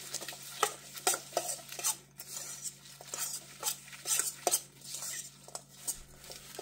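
A utensil scrapes and clinks against a bowl in quick irregular strokes, stirring mayonnaise mixed with pickle juice and dill weed, close and fairly quiet over a low background hum.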